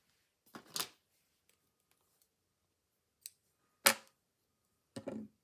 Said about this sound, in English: and then we're ready to cut our yarn